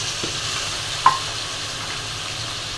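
Water poured into a pan of lightly fried eggplant with ginger and garlic, fish frying alongside, gives a steady hissing sizzle broken by a single sharp utensil clink.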